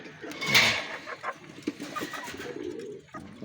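Pigeons coo softly and repeatedly in a racing-pigeon loft, with a few sharper bird calls and rustling nearby, no talking.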